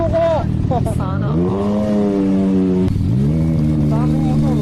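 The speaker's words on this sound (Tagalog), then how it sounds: "Daming motor oh." Many motorcycles pass close by on a road, their engines revving and whining with rising and falling pitch in overlapping waves, loud and continuous.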